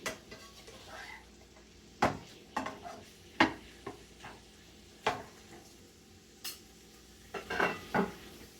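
Ground meat, onion and green pepper are stirred in a pan, a spoon clanking against the metal in scattered bursts over a faint, steady sizzle.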